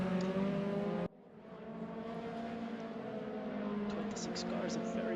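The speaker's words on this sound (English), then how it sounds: "Cars, a very busy track at the moment." Mazda MX-5 Cup race cars at Sonoma, engines droning steadily at a distance, one car cutting off sharply before a fainter engine builds and holds, with someone talking over it.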